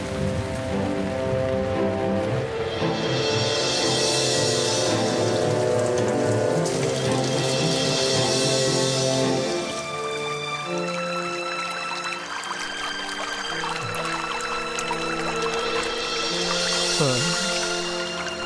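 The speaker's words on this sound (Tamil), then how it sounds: "நம்ம வேலைய இந்த மழை கெடுத்துரும் போல இருக்கே." Steady rain falls and patters throughout, heard beneath continuous background music with sustained tones, fairly loud and unbroken across the whole stretch.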